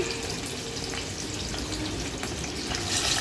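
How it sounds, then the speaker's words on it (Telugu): Fish pieces fry in a shallow layer of oil, giving a steady, fairly quiet hiss and crackle that runs unbroken through the short stretch with no voices. "కొద్దిగా ఆయిల్ వేసుకొని ఈ చేప ముక్కలను అయితే ఫ్రై చేసుకుంటున్నానండి"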